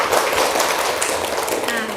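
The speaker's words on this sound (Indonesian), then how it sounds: "Ayo, tepuk tangan dulu." A classroom of children clap their hands together in a steady, dense burst of applause lasting about two seconds, fairly loud and close with no pause.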